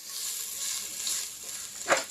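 Tempering (oggarane) for dosa sizzles and crackles steadily in a hot pan, close by, with a sharp pop or scrape near the end.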